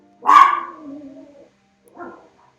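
A dog lets out one sharp bark that trails into a whimpering tail, followed after a short pause by a smaller, softer yip, close and clear in an otherwise quiet room.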